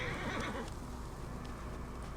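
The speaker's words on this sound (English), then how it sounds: "Oh, I can't kill my horse? Oh, because he's right here." Horse in Assassin's Creed Origins gives a loud, clear neigh at the start, a short whinny that fades into quieter background game ambience.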